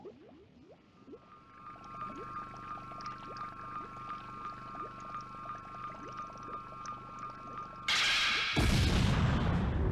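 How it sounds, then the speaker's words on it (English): Explosion in the video game Dragon Ball Z Kakarot: after a humming stretch of tones and small whooshes, a sudden broad blast hits and rolls on as a loud noisy rumble. "What was that explosion just now?"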